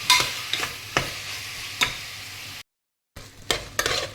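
Chopped tomatoes are sautéed over cooked onions in a pan, a soft steady sizzle broken by a handful of scraping strokes of the stirring spoon, with a short silent gap partway through and no talking.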